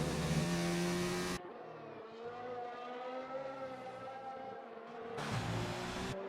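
A Formula 1 car in an F1 video game race at Great Britain roars toward Stowe corner, its high engine note rising and shifting as it nears, with a sharp engine pass at the start and end.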